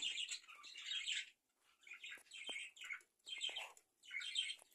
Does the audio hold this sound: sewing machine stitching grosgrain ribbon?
no